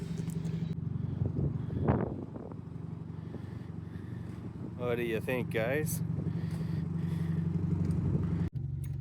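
A car carrying 24 feet of long welding material strapped on top drives along with a steady engine rumble and road noise, while someone talks over it.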